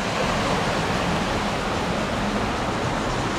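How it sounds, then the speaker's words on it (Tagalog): Flowing water at a natural spot, a dense steady rushing wash with no breaks, moderately loud and unchanging throughout. "yung lagaslas ng tubig"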